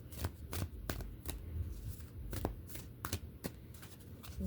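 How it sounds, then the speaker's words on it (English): Tarot cards are shuffled by hand in a quiet room, a series of crisp riffling snaps and soft slaps in an uneven rhythm, close and fairly faint. "We're going to do one more shuffle."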